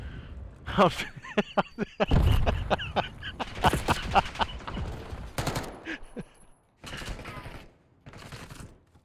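Rapid automatic gunfire in a competitive video game match comes in clustered bursts and sharp single shots, with a quiet gap near the end before a few more shots.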